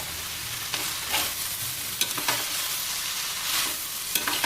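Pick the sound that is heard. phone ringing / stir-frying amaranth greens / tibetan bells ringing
stir-frying amaranth greens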